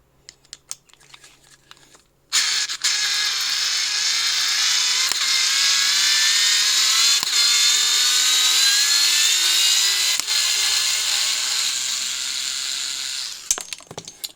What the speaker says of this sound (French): Je vais essayer de vous dévisser ça